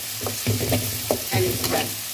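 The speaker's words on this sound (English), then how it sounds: "At this point, I add all the anchovies back in. I stir it" Turkey berries and anchovies being stir-fried in a pan, with a steady sizzle and repeated scraping strokes of a spatula at an even rhythm, close and clear with no talking.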